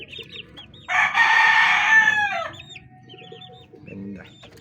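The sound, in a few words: chickens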